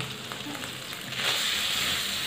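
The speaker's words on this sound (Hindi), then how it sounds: "और 4-5 मिनट इसको फ्राई करूँगी।" Beef tikka pieces frying in a little oil in a karahi give a steady hiss and sizzle that swells louder partway through, with no talk.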